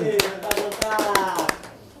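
Several sharp hand claps ring out over lively talk and background chatter, irregular and close, fading toward the end.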